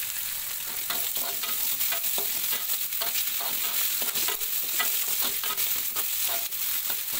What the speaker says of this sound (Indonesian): goreng cabenya sampai matang, sampai layu